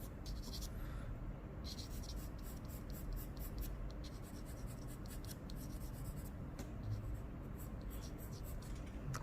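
A hand smooths a plastic vinyl sheet with soft, continuous rubbing and scratchy friction, close to the microphone and steady throughout, with a little quiet talk in the background.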